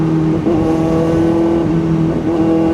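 Kawasaki ZX-4RR motorcycle engine running steadily at night, a constant droning hum with slight rises in pitch, close and loud throughout.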